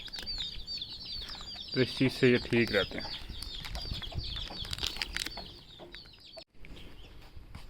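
Backyard chickens clucking and squawking with a burst of wing flapping in the middle, birds close by, while someone talks over them in a summer coop.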